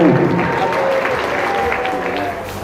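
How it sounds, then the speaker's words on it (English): Applause rises from the crowd at an all-female cage fighting event after a TKO bout, a dense clapping that holds steady and fades slightly near the end, with an announcer's voice briefly over it. "Big round of applause to Mika Nagano"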